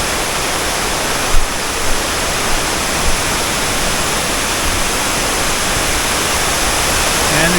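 Rushing water in an outdoor natural setting, a steady broadband roar that stays loud and even throughout, with no voices and only a few faint knocks early on.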